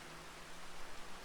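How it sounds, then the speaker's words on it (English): Heavy rain pours steadily on a farm yard in a Farming Simulator 25 game, a broad hiss that stays even and moderately loud throughout with no voices. "The rain is really coming down"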